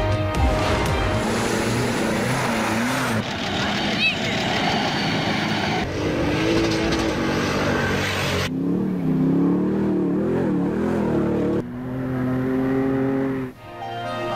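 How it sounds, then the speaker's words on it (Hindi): Rally cars in the stock category tear along a dusty desert track in the Thal jeep rally. Engines rev and whine with rising and falling pitch, loud and close, in several passes with breaks between them. "धूल उड़ाती गाड़ियों का मुकाबला"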